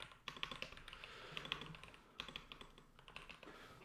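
A new computer keyboard clatters with quick, uneven keystrokes close by, continuous typing with brief pauses and occasional sharper clicks, no voices.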